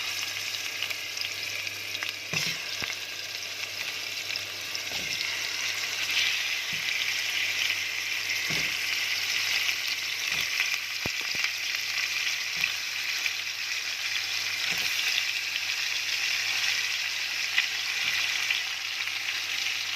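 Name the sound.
meat frying and sizzling in melted fat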